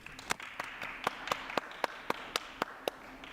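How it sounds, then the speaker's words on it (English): Applause from a small audience after a talk on moderating a code collaboration platform: sparse, evenly spaced claps in a steady rhythm, fairly faint and distant. "Round of applause for Margaret, everybody."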